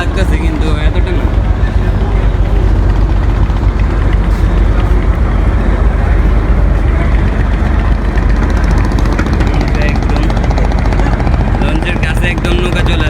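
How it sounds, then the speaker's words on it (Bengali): Steady engine drone of a boat coming alongside a launch on the Buriganga river at Sadarghat, loud and continuous with constant low rumble and water-traffic noise, a voice talking over it throughout. "একদম নৌকা চলে আসছে লঞ্চের কাছে"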